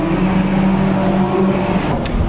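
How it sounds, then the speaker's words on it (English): A Ginetta race car passes on the Donington Park circuit, its engine a loud, steady droning growl heard from close by inside another car, ending with a brief sharp click. "Oh look, a Ginetta."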